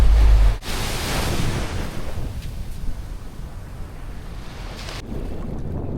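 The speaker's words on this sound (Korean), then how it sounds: "여기가 다낭의 미케비치입니다" Waves breaking on My Khe Beach in Da Nang, Vietnam, a broad continuous surf roar mixed with wind buffeting the microphone, loud and close with no talk.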